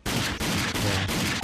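Rapid automatic gunfire from the video game Rage rattles out in four loud, dense bursts, each separated by a very short pause.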